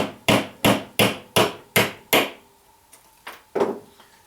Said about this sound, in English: I'm going to take my hammer and just gently tap the